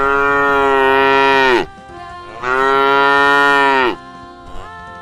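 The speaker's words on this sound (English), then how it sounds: "Cow." A cow lets out two long, loud, close moos separated by a short pause, each a sustained deep bellow, with nothing else heard.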